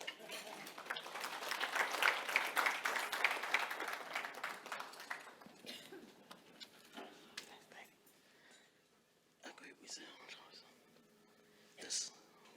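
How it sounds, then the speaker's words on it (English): An audience at a stakeholder event claps to welcome a speaker to the stage, a burst of scattered applause that swells early and fades out, followed by murmuring voices and small clinks. "can you bring him to the stage with a clap of hands?"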